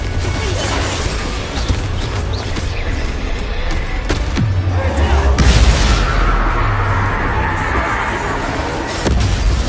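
A Confringo spell explosion in the game Hogwarts Legacy, a loud blast and rumbling crash over continuous game noise, with a second boom and debris rumble midway.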